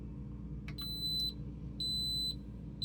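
An electric pressure cooker beeps as it is set to pressure cook, giving a short cluster of electronic tones followed by two longer steady beeps, clear and close against a low background hum.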